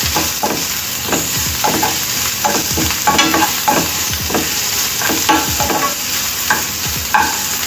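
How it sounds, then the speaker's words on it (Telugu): Ginger garlic paste being stirred into colocasia frying in a pan, loud close sizzling broken by quick rhythmic scrapes of a spatula, with no voices. "ఇందులో అల్లం వెల్లుల్లి పేస్ట్ వేసి ఒకసారి కలిపేసుకోవాలి"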